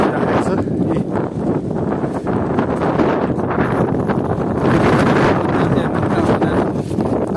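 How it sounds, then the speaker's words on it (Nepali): Wind buffets a hiker's microphone on a mountain trail, a loud, steady low rumble that continues without break for several seconds. "हावा चलिरहेको छ"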